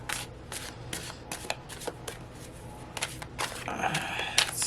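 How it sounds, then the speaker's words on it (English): Tarot cards shuffled and drawn by hand, a quick run of crisp riffling bursts and soft slaps with a few short pauses between them, heard close up with no talk. "We're going to get right through to pulling the cards"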